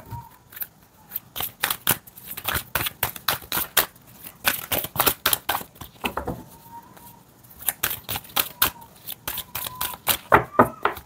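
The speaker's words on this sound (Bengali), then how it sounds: "এখান থেকে আমি দুটো করে কার্ড নেব" Tarot cards are shuffled and drawn at close range, giving repeated crisp riffling and flicking bursts in clusters with brief pauses between them.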